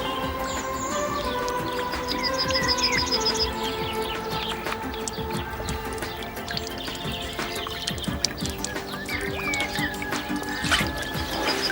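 Water drips through a homemade survival filter in a steady patter of small drops, with birds chirping in the background outdoors.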